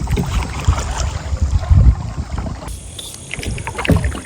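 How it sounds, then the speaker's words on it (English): Paddle strokes sound close by as a kayak moves along the water, with a steady splash and swirl and some wind buffeting the microphone. "we'll just continue to paddle on down here till we get to our spot"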